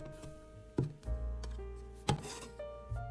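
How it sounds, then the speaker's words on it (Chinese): A knife minces garlic on a cutting board for an eggplant and minced pork dish, landing a few sharp, spaced chops over a soft, steady tonal background. "再切一点蒜末，蒜末可以适当多点"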